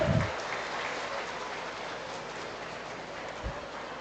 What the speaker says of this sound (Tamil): ஒரு பலத்த கைத்தட்டலுடன் வருக வருக என வரவேற்போம்